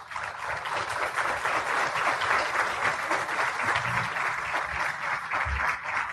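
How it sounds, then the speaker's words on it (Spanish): Audience at a forum on children's and adolescents' rights in Mexico applauds a speaker being introduced: sustained, close, dense clapping throughout, steady in level with no talk over it. "Le damos, por favor, un fuerte aplauso."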